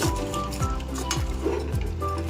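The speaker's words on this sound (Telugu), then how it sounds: "పసుపు అయితే ఇప్పుడు వేసేసుకున్నాము కలుపుకుందాం" A spoon stirs turmeric through a crab curry cooking in a pot, with repeated scraping sweeps and soft clinks over a continuous low sizzle, close and unhurried, no talking.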